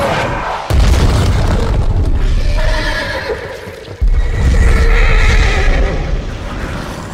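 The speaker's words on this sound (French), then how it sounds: "ce dernier monte son célèbre cheval à 8 pattes, Sleipnir" Sleipnir, Thor's eight-legged horse, lets out loud, close neighs and whinnies mixed with hoof clops, and a sudden heavy boom cuts in midway.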